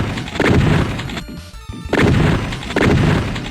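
Repeated heavy, booming impacts from a non-lethal shotgun in the Super NES beat-'em-up Brawl Brothers, loud crunchy blasts in quick succession with a brief gap between them.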